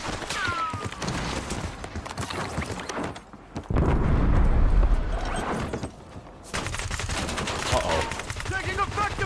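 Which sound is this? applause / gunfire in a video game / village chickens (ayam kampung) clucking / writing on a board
gunfire in a video game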